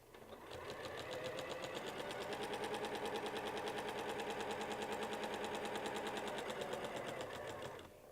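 A Weightless Quilter sewing machine runs steadily for about seven seconds, anchoring a line through a quilt at a 2.0 stitch length, its rapid even needle rhythm close and loud with no talking.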